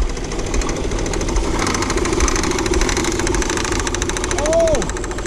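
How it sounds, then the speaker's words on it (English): A Saturn L300 3.0-liter engine runs with a worn power steering pump pulley bushing, producing a steady, close, rapid rattling clatter over the idle. "Power steering pulley pump is shot."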